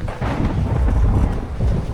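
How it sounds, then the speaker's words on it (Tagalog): Strong wind buffets the microphone on Magalawa Island in Zambales, a heavy low rumbling roar with light rain mixed in, continuous and close throughout. "Yung hangin na malakas pero yung ulan medyo mahina lang."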